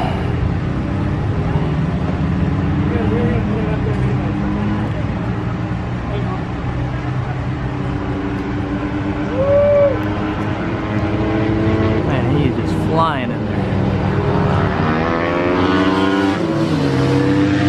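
Supermoto motorcycles race in an asphalt mini main event at Redding, California, engines droning and revving continuously with pitch sweeps as bikes pass, loud and steady throughout, with a voice talking over the racing.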